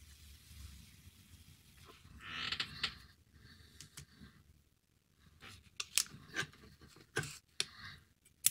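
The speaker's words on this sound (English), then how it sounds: "And go ahead and cut that." Scissors or a cutter snip parts on a 1:1000 scale U.S.S. Constellation model, with quiet creaks and a few sharp, close clicks in an otherwise hushed room.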